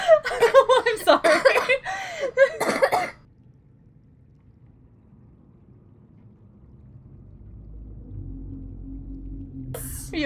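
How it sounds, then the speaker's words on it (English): Harsh, bursty coughing fits crowd the opening three seconds, loud and close, then give way to near silence with a low rumble slowly building. "She's still coughing."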